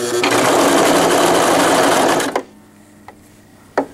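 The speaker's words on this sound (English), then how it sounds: "Alright, so now I've got a few stitches sewn." A sewing machine stitches a two-layer stretch waistband onto a pair of pants, running loud and steady for about two seconds before stopping, followed by a few faint clicks and a sharp knock near the end.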